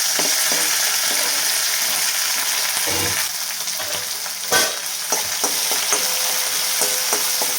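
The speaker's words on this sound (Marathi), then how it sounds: "तेल चांगलं गरम झाले म्हणून मी आता हिरवी मिरची कढीपत्ता टाकून घेते" Green chillies and curry leaves sizzling in hot oil for a Maharashtrian curd kadhi, a steady loud close hiss with occasional clinks and stirring knocks from the pan.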